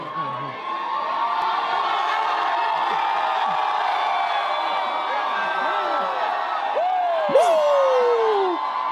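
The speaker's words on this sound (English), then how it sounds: "a throng of fans cheering for him" A throng of fans cheers in a city street outside a building, a dense continuous roar of voices with whoops and shouts rising over it, loud and sustained throughout, with one sharp yell near the end.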